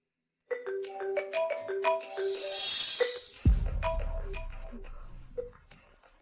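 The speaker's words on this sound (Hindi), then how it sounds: "तुम्हारा फोन अभी भी बज रहा था।" A mobile phone ringtone plays a bright, repeating electronic melody in a quiet indoor room. A dull thump comes midway, followed by a soft low rustle while the tune keeps going faintly until it stops.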